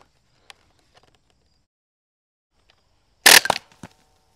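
A coil accelerator fired in shotgun mode at a can gives one sudden loud crack followed by a few short rattling impacts, standing out against near silence with faint ticks before it.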